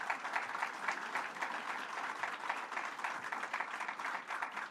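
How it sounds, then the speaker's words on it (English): A crowd at a paid family leave rally on Long Island applauds the president of NOW, continuous dense clapping heard from a distance, fairly faint and even. "Let's have a big, warm round of applause for Sonia Osorio,"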